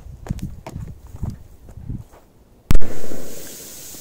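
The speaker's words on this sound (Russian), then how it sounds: "Вот такая петарда Thunder King." Soft rustling and light taps, then one loud sharp bang from a Thunder King firecracker set in sand, followed by a booming rumble that slowly fades, heard outdoors with no talking.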